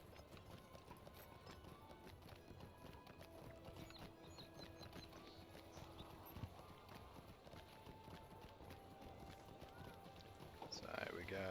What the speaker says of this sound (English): So pop on your horse,